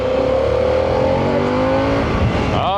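A 2024 Harley-Davidson Pan America motorcycle engine revving steadily, loud and close, with the pitch holding high before a quick rising blip near the end.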